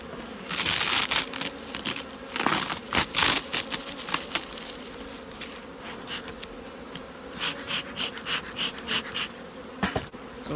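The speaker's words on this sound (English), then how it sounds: "these are a box of bees" Honeybees in an opened hive box, heavy with bees, buzz in a dense close hum with bursts of louder swarming surges and crackling handling noise, no talk.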